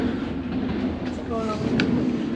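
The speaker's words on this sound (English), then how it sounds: "we got a big train coming through" A big freight train comes through beside a small train museum, a steady rumbling roar of rolling wheels with a brief squeal and a short tonal whine, close and continuous, with a voice faintly under it.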